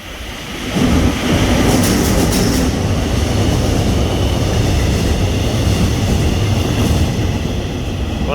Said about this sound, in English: That's probably the Mugunhwa, the Rose of Sharon train.